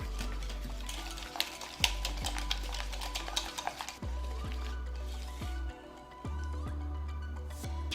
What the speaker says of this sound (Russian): теперь тщательно все это перемешиваем до однородности